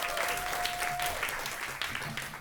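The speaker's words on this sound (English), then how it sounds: "Round of applause" Audience applause at a food policy panel event, a dense wash of clapping hands sustained evenly for a couple of seconds, moderately distant in a hall.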